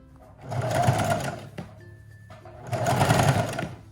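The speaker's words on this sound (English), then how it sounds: "Back stitch and forward stitch." A sewing machine runs two close, loud bursts of stitching, a back stitch and then a forward stitch, each about a second long with a brief pause and a click between them, sewing a mini dress.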